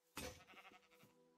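A sheep bleats in Minecraft with the Better Than Wolves mod, one quavering, wavering bleat that starts loud and close and fades over about a second.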